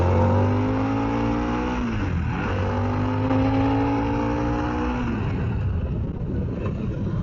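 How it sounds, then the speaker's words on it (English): Harley motorcycle engine under way on a ride, a loud, continuous rumbling drone with rising and falling revs through gear shifts, heard close and alone. "This bike is ridiculously fast."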